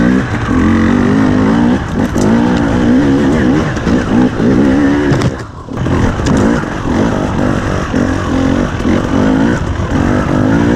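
A 2021 KTM 300 EXC TPI two-stroke dirt bike fitted with an RK TEK head being ridden, its engine loud and close, lugging and revving continuously with brief throttle changes and one short dip midway.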